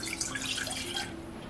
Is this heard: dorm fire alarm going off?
no